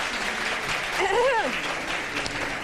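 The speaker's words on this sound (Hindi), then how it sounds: "अपने लिए खुद ही तालियां बजवाई" Studio audience on a morning television show applauding, moderate steady clapping with a voice briefly speaking over it midway.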